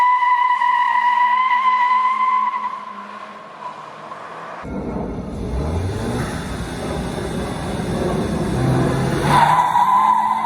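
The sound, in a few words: 2019 VW Jetta GLI tire squeal during launch control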